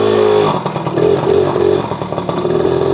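A 1981 Honda Moto Compo, a small folding motorcycle, runs steadily close by, its small engine humming and buzzing with slight revving swells and light mechanical clatter, with no talk over it.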